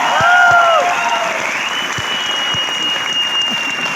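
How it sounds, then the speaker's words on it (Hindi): An audience at a Hindi-language motivational meeting bursts into loud, sustained applause, a dense continuous roar of clapping close by, with a brief vocal tone at the start over the hands. "एक बार जोरदार तालियां हो जाए"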